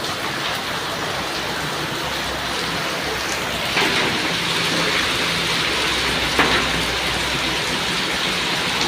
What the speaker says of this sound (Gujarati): ચારે બાજુ વરસાદ તમે જોઈ શકો છો, મુસળધાર વરસાદ પડી રહ્યો છે।